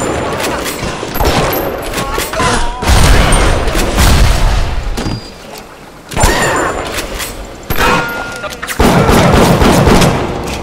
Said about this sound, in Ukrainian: Гранати!